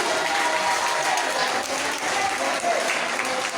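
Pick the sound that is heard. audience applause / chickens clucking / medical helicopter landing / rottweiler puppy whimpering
audience applause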